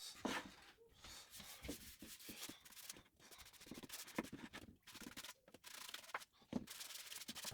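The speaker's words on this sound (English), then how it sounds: "give it 2 coats, sanding between each" Close, steady sanding of a water-based wood finish between coats, with quick rhythmic back-and-forth strokes of abrasive rubbing across a surface, continuing without pause and with no talking.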